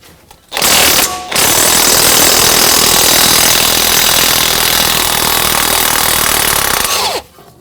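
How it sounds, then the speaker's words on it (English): A power tool with a 15mm socket on a 1/2 inch drive removes a front strut pinch bolt on a 2011-2018 Volvo S60, in a loud, continuous rattling burst of about six seconds after a brief opening blip. "now we're going to remove our pinch bolt, and it's a 15mm socket and 1/2 inch drive is what I'm going to be using"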